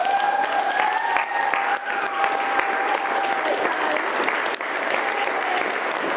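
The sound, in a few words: wedding guests applauding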